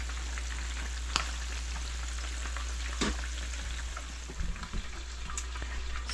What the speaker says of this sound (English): So our water has started to boil, so you can see the steam coming out of it.